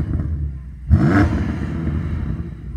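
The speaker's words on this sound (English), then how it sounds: "Go on, rev up the M5" A BMW M5's V8 revs once in a short surge that rises and falls back to a deep, rumbling idle, heard nearby outdoors.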